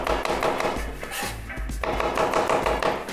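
A knife slices peeled mushroom caps on a cutting board in a home kitchen, a steady run of close, crisp chopping knocks with a few short pauses and no talk.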